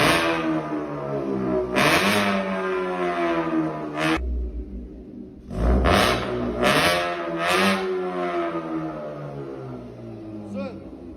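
With the remote-controlled exhaust valve open, a car's engine blares through several loud, sweeping revs, rising and falling in separate bursts with a short lull between them.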